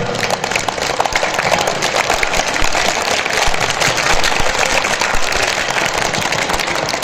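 Sustained applause from a seated audience at a farewell ceremony for transferred schoolteachers, a dense, even crackle of many hands clapping steadily for several seconds without pause.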